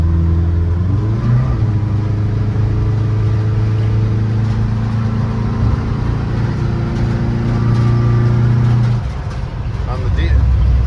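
A VW bus fitted with a Subaru 4EAT automatic gearbox slows down, its engine note steady and close with a low droning tone that drops away near the end, while someone talks over it.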